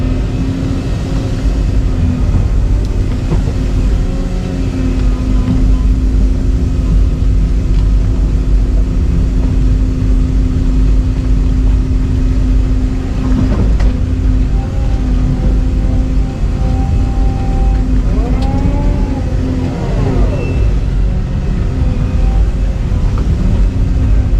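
A digging machine's engine runs steadily and loudly while a pond is dug, a continuous heavy drone with a low rumble, occasional rising revs and faint squealing hydraulic whines, with no talking.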